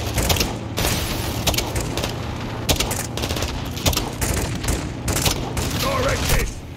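Dense gunfire rattles through a firefight in Call of Duty: Modern Warfare II, with bursts of automatic weapons and sharp cracks layered over a constant battle rumble, while shouted voices are heard in the mix.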